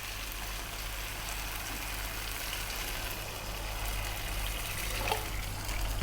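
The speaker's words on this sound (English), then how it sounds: "we're going to add quite a lot of water" Water pours steadily into a pot of browned lamb for curry, a constant soft rushing fill that runs for several seconds, fairly quiet, with a small clunk at the end.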